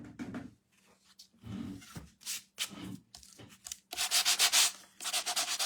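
A 3D embossing folder pressed firmly through a machine during cardmaking makes repeated scraping, rubbing bursts, uneven and close, growing rougher and louder toward the end.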